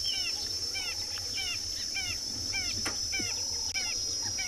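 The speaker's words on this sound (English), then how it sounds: "Can hear all the ring-necked doves calling around us." Ring-necked doves calling around an evening safari drive in South Africa, repeated rhythmic coos from several birds at moderate distance over a steady insect-like drone and low vehicle rumble.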